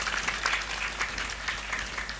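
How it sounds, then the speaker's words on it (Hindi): Audience applause at a Hindu religious gathering for Shrimad Bhagwat katha, welcoming a guest saint from Vrindavan and Haridwar: steady, moderately loud clapping from a crowd, continuous throughout with no talk over it. "इनकी जो है बड़े जोरदार तालियों से स्वागत कीजिए"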